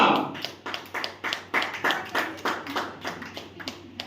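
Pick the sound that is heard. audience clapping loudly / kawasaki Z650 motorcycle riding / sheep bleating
audience clapping loudly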